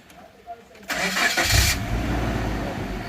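A Suzuki car with an immobilizer fault has its ignition switched on, and the engine cranks briefly, then fires and settles into a steady idle nearby, with someone talking over the start.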